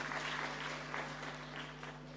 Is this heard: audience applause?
yes